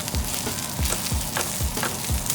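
Stuffed eggplant browning in a skillet, a steady close sizzle with rhythmic low scrapes of stirring repeating about every third of a second.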